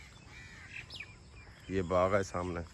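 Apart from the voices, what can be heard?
koel calling in a mango orchard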